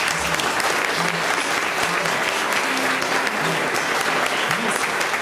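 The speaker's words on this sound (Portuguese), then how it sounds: "Eu gostaria que a igreja desse em honra, uma salva de palmas para este homem de Deus nessa igreja." A church congregation gives a round of applause in honor of a man of God, many hands clapping in a thick, continuous roar that stays loud and level throughout, with faint voices beneath.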